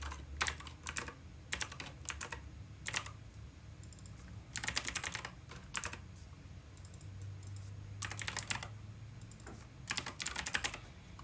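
Computer keyboard typing while writing Hydra live-coding code, quick irregular clusters of key clicks with pauses between them, close and fairly quiet, no talking.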